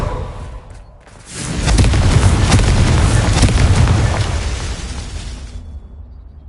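A Confringo blasting curse in a Hogwarts video game goes off as one loud, sustained explosive roar that swells, holds for several seconds and then fades out, with no voices.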